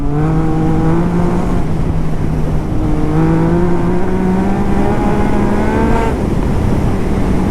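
Motorcycle fitted with an aftermarket exhaust riding fast, its loud engine note rising in pitch through the gears with a brief dip and shift, close and continuous with no talking.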